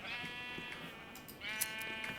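Sheep in a Minecraft survival server bleat twice in quick succession, a wavering nasal call fairly close over faint game ambience.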